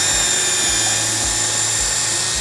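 A small pilot drill bit bores into a gate, giving a steady high-pitched whine with a low, rhythmic pulsing beneath it, close and moderately loud with no talking.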